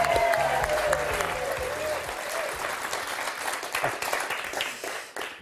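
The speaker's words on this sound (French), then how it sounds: "on accueille Thierry Beccaro sous vos plus chaleureux applaudissements" A studio audience at the Motus game show breaks into loud, sustained applause to welcome the host, a dense wash of clapping that fills the clip with music faintly underneath.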